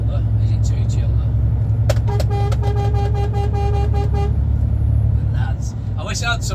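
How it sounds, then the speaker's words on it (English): A lorry's horn sounds from inside the truck cab, several short toots then a sustained blast over a steady loud engine and road rumble, with the tone dropping away near the end. "my flashing lights and a donk on the horn"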